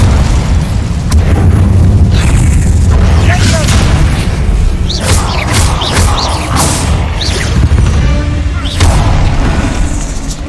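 Hogwarts Legacy spell combat with booming fiery bursts and crackling impacts over a dense game soundtrack, while a voice speaks over the action.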